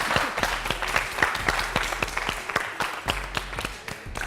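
An audience at a high school quiz semi-final applauds, a moderate burst of scattered hand claps that keeps going steadily, with a low hum underneath and no voices.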